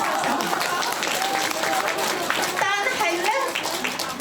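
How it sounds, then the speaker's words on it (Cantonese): A crowd at a church evangelistic meeting claps steadily throughout, with voices and cheering mixed into the dense applause. "拍手啊！ 拍手！"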